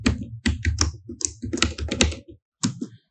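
Crisp, close computer keyboard typing comes in quick clustered bursts of keystrokes separated by short pauses, ending with a final short flurry.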